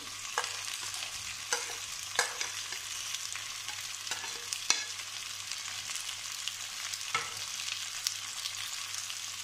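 Potatoes frying in a pan with tomato, green chili and garlic added, stirred with a utensil that gives sharp scrapes and clicks at irregular intervals over a steady, close sizzle.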